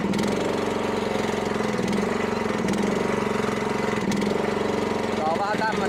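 Wiljam VL100 mini loader's small engine runs close and loud with a steady throbbing beat, its pitch rising slightly as revs build, with someone speaking over it.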